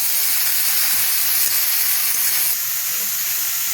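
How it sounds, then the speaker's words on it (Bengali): Radish pieces sizzle in hot oil in a pan, a steady loud hiss of frying heard up close without any talking. "আমি এখন এই মুলোটা এর মধ্যে দিয়ে দেবো ভালো করে একটু নাড়াচাড়া করে দেবো"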